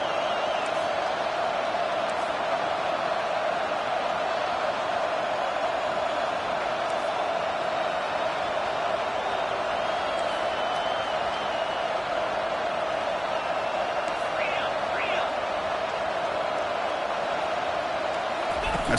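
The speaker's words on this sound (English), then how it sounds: "This crowd is trying to inspire this defense to make a big red zone stop." A college football stadium crowd roars steadily at a red zone moment, a dense, sustained wash of cheering and noise filling the space, with faint whoops rising briefly near the end.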